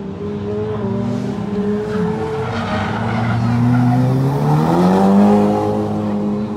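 Drift cars skidding around the Mikawa Motorland track in Japan during a drift championship, a long, loud tire squeal that sweeps in pitch over roaring engines, sustained throughout with no talking.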